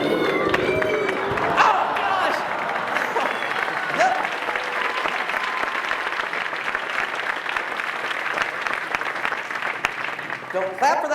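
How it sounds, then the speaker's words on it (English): A juggling-convention audience claps and cheers steadily for about eleven seconds, a dense continuous wash of applause with a few voices calling out. "Don't clap for that now"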